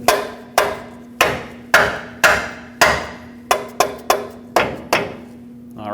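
A rubber mallet or dead blow hammer taps a lower control arm into place on a 2005-2021 Nissan Frontier 2WD, with about a dozen sharp, close knocks, evenly spaced at first and then quicker, each ringing briefly, with no talk.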